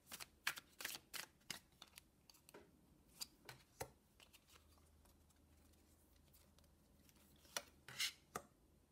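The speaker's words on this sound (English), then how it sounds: "So I'm going to go ahead and begin shuffling the cards." Tarot cards being shuffled by hand in a quiet room, with a run of quick, close riffling bursts that come in irregular clusters and pause between them.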